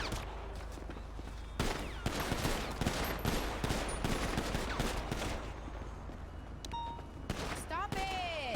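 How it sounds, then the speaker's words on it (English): Rapid video-game gunfire from several players, loud bursts and single shots cracking in quick succession throughout, with voices talking faintly underneath. "Stop shooting, guys."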